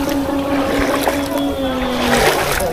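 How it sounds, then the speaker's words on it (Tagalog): A motorcycle engine keeps running while half-submerged in floodwater, a steady droning hum mixed with splashing and water noise, loud and close, with voices talking over it. "yung motor ni King Corn umaandar pa rin"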